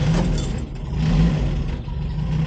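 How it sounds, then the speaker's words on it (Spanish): A Renault Caravelle Sierra's rear-mounted engine runs steadily while the car drives along, a continuous mid-low hum with slight swells in pitch and level throughout. "este sonido de los motores Sierra es una auténtica gozada"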